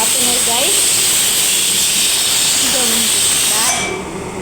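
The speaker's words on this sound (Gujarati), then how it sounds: "અમે મૂકી દીધી છે કુકરમાં દાળ સીટી વાગે છે" A pressure cooker with lentils inside whistles in a loud, continuous steam hiss that tapers off near the end, while people talk over it.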